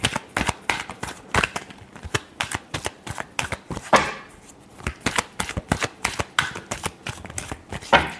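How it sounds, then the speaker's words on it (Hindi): Tarot cards being shuffled by hand, a rapid run of crisp riffling snaps and slaps in quick uneven bursts, close and clear with no voices over them. "last shuffle"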